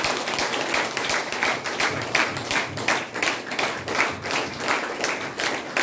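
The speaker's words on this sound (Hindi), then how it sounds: "हमारे सभी गुरुजनों के लिए जोरदार ताली बजाएगा सभी लोग" An assembled audience at a health seminar claps for their teachers, a steady, fairly rhythmic round of many hands continuing for several seconds.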